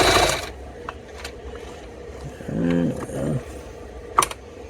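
A Bernina Record 7 sewing machine under repair and restoration, fitted with a size 14 needle, runs a short burst of mechanical stitching mid-clip, surrounded by scattered clicks and handling knocks.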